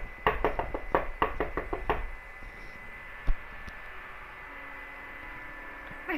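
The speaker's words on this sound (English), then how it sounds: "My hand is hurting from knocking all these doors." Knocking on a house door, a quick run of about seven sharp knocks close by, then quiet with low hum and one more faint tap.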